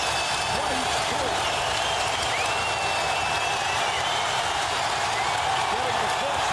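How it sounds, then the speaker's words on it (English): Loud, steady roar of a packed arena crowd applauding and cheering in the fourth quarter of the 2002 Lakers vs Kings Game 7, a continuous wash of clapping and voices from start to finish. "Getting the full treatment from this crowd."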